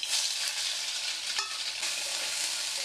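Soya chunks, soaked and squeezed dry, fry in hot oil with a steady, loud, close sizzle that runs unbroken, joined by faint stirring.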